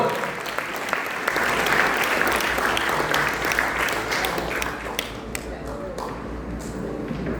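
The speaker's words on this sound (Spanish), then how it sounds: "Un aplauso, por favor, para este joven actor." Congregation applauding a young actor during a church service, a full, even roll of clapping from a large crowd that gradually thins toward the end.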